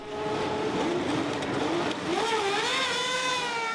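Several 1970 Formula One cars, including the new Tyrrell Ford, Ferraris and a BRM, scream away from the grid at a race start: a dense, continuous high-pitched engine roar with rising pitches as the pack accelerates, loud and steady without voices.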